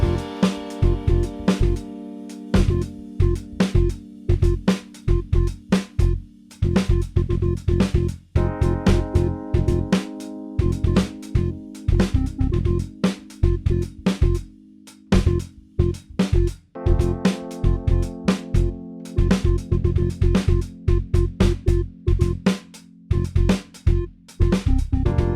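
A fast, driving drum beat played alone, with rapid kick and snare hits and busy cymbals keeping a steady, dense rhythm throughout.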